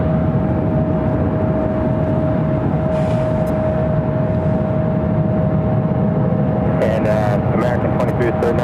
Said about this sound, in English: Still a great shot of the takeoffs here from Terminal 3.